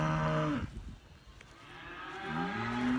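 A red cow in a barn lows twice, one long moo fading out, then a quiet pause before a second moo swells up, loud and close.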